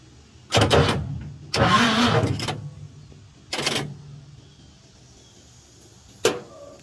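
A 1952 car engine with a newly replaced starter cranks in three separate bursts, the middle one longest, and each stops without the engine catching, followed by a brief clank.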